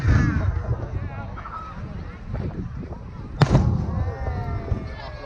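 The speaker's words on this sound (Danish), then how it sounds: "Det er altid fyrværkeri i verdens klasse herude." Fireworks burst at a fireworks show with a rolling, crackling rumble and one sharp loud bang partway through, while people talk nearby over the noise.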